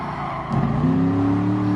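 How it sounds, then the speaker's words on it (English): A race car engine hums steadily and then climbs in pitch as the revs rise, loud and close, with a sustained tonal whine and no talk. "really love the sound of an engine, just changing RPMs"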